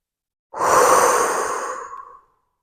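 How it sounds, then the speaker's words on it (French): Amplified breathing in a quiet meditation setting: a single long, close, loud breath out, rushing and airy like a sigh, fading gradually over about two seconds and heard alone against silence. "Ça pourrait être aussi simplement une respiration un peu amplifiée."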